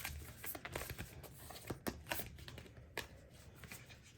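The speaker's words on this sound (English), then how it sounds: "So we're going to go ahead and pull another Moonology card." Moonology oracle cards being shuffled by hand, a soft, steady riffle of card edges with a few sharper slaps and flutters, close and fairly quiet, with no talking.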